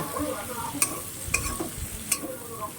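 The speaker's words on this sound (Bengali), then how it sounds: "এটাকে আমি এই চিংড়ি মাছের সাথে পুরোপুরি ভেজে নেব।" Onion, tomato and green chillies frying with prawns in a pan, a soft steady sizzle broken by three sharp stirring scrapes, close and fairly quiet.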